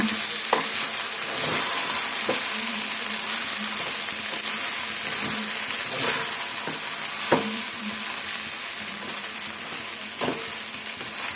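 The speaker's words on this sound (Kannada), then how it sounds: "ಚೆನ್ನಾಗಿ ಈ ಥರ ಮಿಕ್ಸ್ ಮಾಡ್ಕೊಳ್ಳೋಣ." Avalakki bath (poha) being stirred in a frying pan, with a soft continuous sizzle and scraping, plus spoon taps against the pan every second or two, close and steady with no talking.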